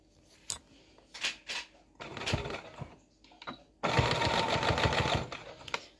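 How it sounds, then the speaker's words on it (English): A sewing machine stitches fabric in close bursts, first a few short runs and then a longer steady stretch, with some quiet handling noises between them. "Don't worry, I'm not sewing over pins."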